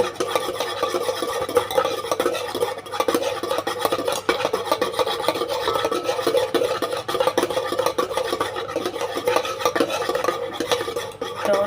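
Sour yogurt (curd) being beaten smooth in a bowl for mishti doi, a continuous rapid scraping and stirring rasp, close and steady throughout with no talking.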